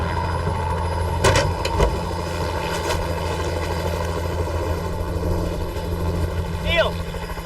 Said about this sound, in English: a rescue helicopter picks up Blake and rushes to the scene